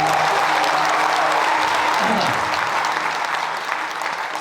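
Concert audience at a live Punjabi music show in Seattle applauding loudly and steadily, a dense wash of clapping with some crowd noise that eases slightly toward the end.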